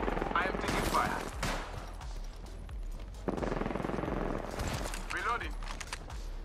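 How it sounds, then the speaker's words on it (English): Rapid bursts of automatic gunfire from an Apex Legends match, several loud volleys in quick succession with short gaps, close and dominant, with game voice lines and effects layered between shots. "Taking damage. I am taking fire."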